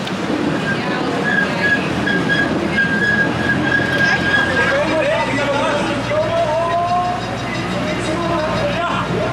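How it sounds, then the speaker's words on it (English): An amusement park train ride at Walibi Holland clatters along the track with rhythmic wheel noise and thin squealing tones, while people talk close by throughout. "we're going on the train"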